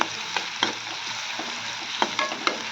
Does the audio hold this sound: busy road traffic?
no